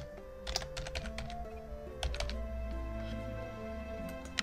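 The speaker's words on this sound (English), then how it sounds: "Well, it would help if I actually typed it in." Typing on a computer keyboard, heard as quiet, close clicks and clacks in short uneven bursts over a soft background tone of game music.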